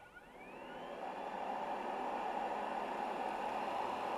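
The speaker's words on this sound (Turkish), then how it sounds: "Evet şu anda süpürgemiz çalışmaya başladı." A YUI S7 robot vacuum cleaner starts up, its motor whirring and rising to a steady, even hiss-like hum that holds for a few seconds, moderately quiet and with no talking.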